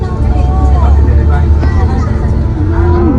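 Busy street traffic thick with taxis in Pattaya, Thailand, a loud, continuous engine rumble with passing vehicles, while people talk over it.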